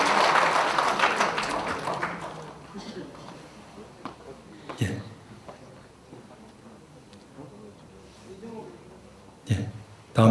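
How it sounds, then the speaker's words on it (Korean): An award-ceremony audience at a martial arts federation's tenth-anniversary general meeting applauds after a plaque presentation. The applause starts fairly loud and full, then fades out within a few seconds, leaving quiet room sounds with a couple of brief knocks. "많은 박수 부탁드립니다"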